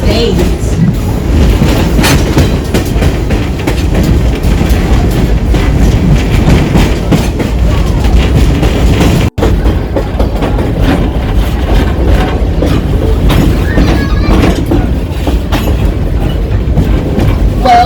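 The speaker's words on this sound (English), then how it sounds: "As we're pulling back into the train depot" A train rolls steadily along the tracks into a depot at Stone Mountain, with a continuous rumbling clatter of wheels, loud and close, occasionally under faint voices.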